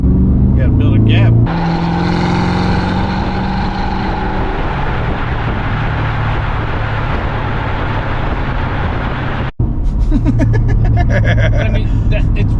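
Cadillac CT5-V Blackwing 120th Anniversary Edition V8 accelerating at moderate throttle, a loud rising engine roar heard from inside the car, with people talking over it before and after.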